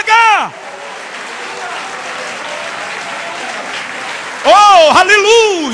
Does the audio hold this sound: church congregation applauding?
yes